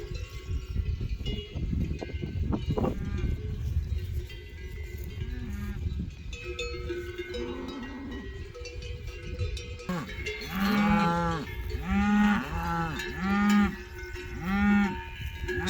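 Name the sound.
cows mooing with cowbells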